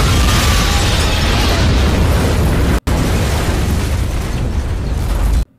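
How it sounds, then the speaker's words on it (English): A film explosion in Captain America: Civil War roars loudly as a dense, sustained rumbling blast, breaks off for an instant, then surges back with a second long roar that cuts off abruptly. "Damn, they had a second explosion?"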